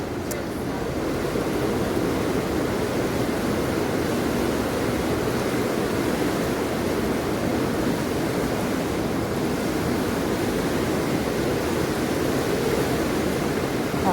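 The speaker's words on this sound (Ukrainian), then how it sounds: "Ось подивіться, які хвилі йдуть." Steady broadband rush of a fast-flowing river in Northern Ireland, its waves churning continuously and evenly at close range with no pauses or talk.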